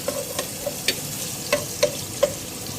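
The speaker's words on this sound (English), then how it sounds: "So we're cooking first the pancetta or bacon." Pancetta or bacon frying in a pan for a Bolognese ragu, a soft steady sizzle broken by several light spatula scrapes and taps at an even pace.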